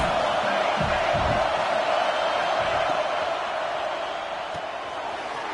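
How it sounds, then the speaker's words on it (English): A home crowd at a Penn State versus LSU college football game roars loudly and continuously, a dense stadium wash with some whoops, easing slightly toward the end. "how nice is it to have the home crowd going absolutely bananas?"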